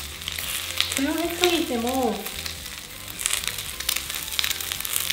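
Food sizzles and crackles in an iron frying pan over high heat, a steady close frying hiss throughout, with a short spoken remark in Japanese partway through.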